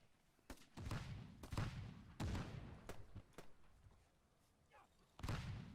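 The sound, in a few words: grenade explosion in WWII Online video game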